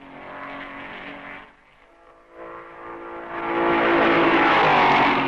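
Maserati racing cars at the 1955 Belgian Grand Prix, engines droning at a steady pitch, briefly fading, then swelling into a louder, higher roar as the cars pass near.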